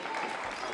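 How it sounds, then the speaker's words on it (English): Polite clapping from a team bench at a table tennis match, a steady patter of several hands that stays even and moderately close for a brief moment with no voices over it. "They're clapping politely over on the Crocs bench"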